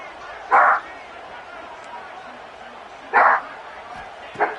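A dog barks indoors, three separate short barks spaced a few seconds apart, close and loud, over a steady background of sports game commentary.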